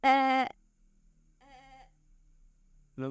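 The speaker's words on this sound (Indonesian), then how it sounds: "Ada suara kambing ya?" A goat bleats loudly once, a fainter bleat follows in quiet night surroundings, and a third starts at the end.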